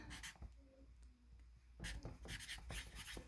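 Marker strokes on a board squeak and scratch in short bursts close by, with pauses between them and faint background room noise.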